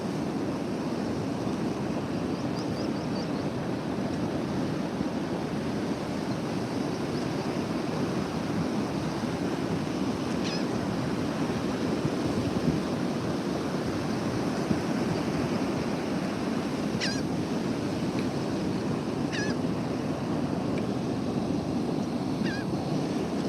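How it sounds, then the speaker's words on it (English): Steady wash of ocean surf rolls along a Texas beach, broad and continuous throughout, with a few faint bird calls and brief chirps poking through in the background. "The surf's going out."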